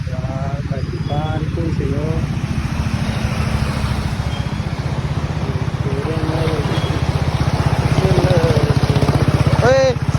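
A motorcycle rumbles steadily through deep rainwater on a flooded street in Sambhajinagar during a heavy downpour, its low engine drone constant and close, with people calling out and talking over it throughout.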